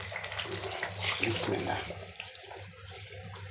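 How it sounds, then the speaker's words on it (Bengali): Hot water poured into a pot of simmering beef curry with potatoes, a steady splashing pour building to a louder gush midway, with a brief spoken word near the start. "ঝোলের পানি দিয়ে দিই, গরম পানি।"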